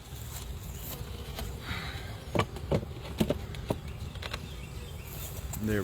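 Honeybees humming softly at an open hive during an inspection, a faint steady buzz under light handling clatter and a few sharp knocks from the hive boxes.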